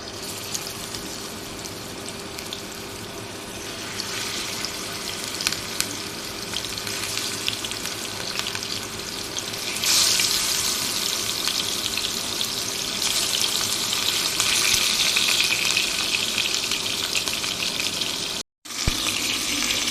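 Rui fish pieces fry in hot oil in a pan, with a continuous close sizzle that grows louder and more crackling midway and runs on with one brief cut.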